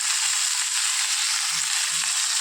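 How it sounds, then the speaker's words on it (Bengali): Small chuno fish frying in hot oil with salt, a steady bright sizzle filling the pan throughout with faint low stirring knocks, close and continuous, no talking. "এবার নুন দিয়ে ভালো করে ভেজে নেব তেল ছেড়ে গেছে"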